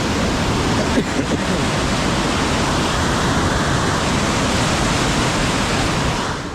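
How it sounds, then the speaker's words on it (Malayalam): River water rushing steadily near Kallanchira dam, a loud, continuous broadband roar that stays close and constant throughout with no voices. "എൻ്റെ മോനെ വെള്ളം വരുന്ന വരുന്നത്"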